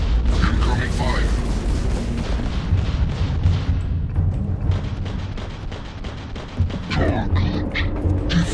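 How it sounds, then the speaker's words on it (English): Incoming artillery fire in a video game, heavy booms and rumbling explosions in repeated waves, loud and close, with voices talking over the barrage. "Incoming fire."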